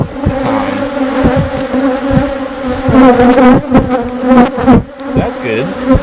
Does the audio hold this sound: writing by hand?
no